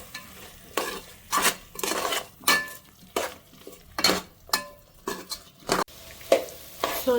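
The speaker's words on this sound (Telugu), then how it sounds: "అండ్ కొంచెం పసుపు వేసుకొని బాగా కలుపుకోవాలి." A utensil stirs chili powder and turmeric into vegetables in a pan. About a dozen rhythmic scraping strokes clink against the metal over a light sizzle, with no talking.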